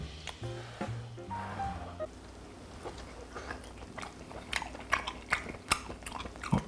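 Someone chewing and biting into spicy stir-fried chicken dakgalbi, soft wet mouth sounds and crunchy bites close to the mic, growing more distinct toward the end, with some faint background noise.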